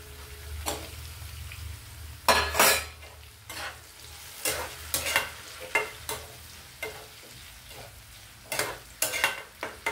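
Raw banana pieces dropped into hot oil for deep frying: a low bubbling sizzle under a series of sharp scraping, clattering strokes against the pan at irregular intervals, close and fairly loud, no speech.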